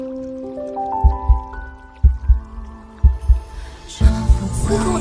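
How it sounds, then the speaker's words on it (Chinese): A heartbeat sound effect thumps in slow paired beats, about four double pulses, deep and prominent over sustained musical tones that swell toward the end. "为何我的心跳得这么厉害？"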